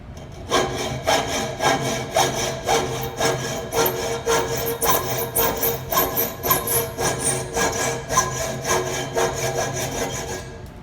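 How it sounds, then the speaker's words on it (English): A hacksaw trims extra material off a marking gauge body with steady, rhythmic push-and-pull strokes, close and fairly loud, with no talking. "I could take some of this extra off here also with the hacksaw."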